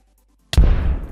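A fireball explosion from a Minecraft custom sound texture pack hits after a moment of silence as one sudden loud boom, then a rumbling tail that slowly fades.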